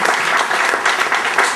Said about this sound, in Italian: vorrei accogliere questo con un applauso